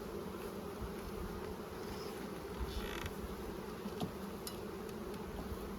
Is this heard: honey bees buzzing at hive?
yes